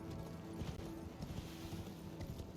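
Horse hooves clip-clop faintly in Elden Ring, a steady muffled trotting rhythm under a low background hum, with no talk.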